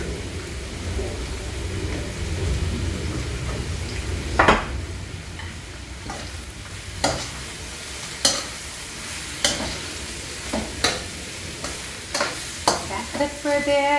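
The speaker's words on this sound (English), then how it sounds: "So I'm going to add the stems of the bok choy. And if I need more oil, I will add more oil" Bok choy stems stir-fry in hot oil for lo mein, a continuous close sizzle broken by a regular series of sharp scraping and clacking stirs from a utensil against the pan.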